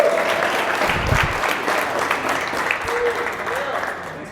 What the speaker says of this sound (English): Can we get a little bit of applause for them?